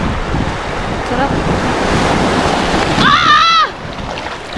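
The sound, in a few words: strong waves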